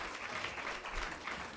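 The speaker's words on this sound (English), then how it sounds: "Round of applause, ladies and gentlemen." Audience applause at a forum event: dense, steady clapping from a crowd that fills the whole moment at an even, moderate level, with no voices over it.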